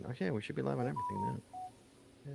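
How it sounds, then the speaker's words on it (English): A short electronic phone tone sounds, a thin pure beep followed by a second briefer one, heard just after people talk and partly under their voices. "Was that your phone telling you we're live?"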